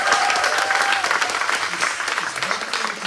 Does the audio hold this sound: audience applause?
yes